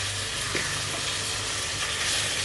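Chicken biryani ingredients frying in a pan, a dense, steady hiss of hot oil filling the whole clip at an even, fairly loud level with no pauses.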